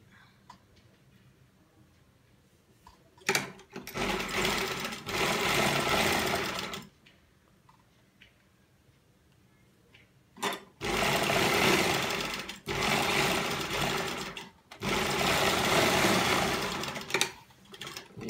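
An electric sewing machine stitches the neckline of an embroidered garment in three loud, steady bursts of rapid mechanical whirring, with quiet pauses between runs.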